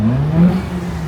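A Nissan Skyline GT-R V-Spec engine revs loudly and close by at a Friday night car meet at Daikoku, giving a brief, throaty tone that swells slightly and then holds.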